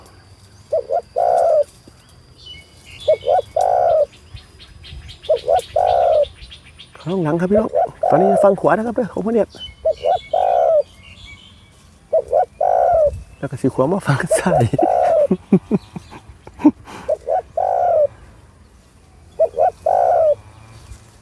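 Spotted dove in a forest giving repeated soft cooing calls at regular intervals, near and clear, while someone talks quietly in between and over some calls.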